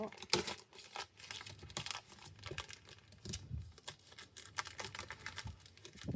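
Parcel packaging, including Valentine's-themed wrapping, crinkles and tears close up as it is pulled open, with dense irregular bursts of rustling and ripping throughout.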